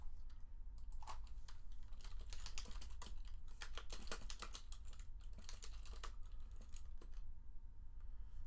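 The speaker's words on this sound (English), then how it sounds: "I'll just type it." Rapid typing on a computer keyboard, a steady run of close, crisp key clicks with an uneven rhythm and no voices.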